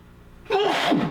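A single sharp sneeze bursts out close by after a moment of quiet.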